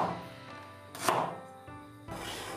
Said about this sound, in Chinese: 切成厚厚的薄片。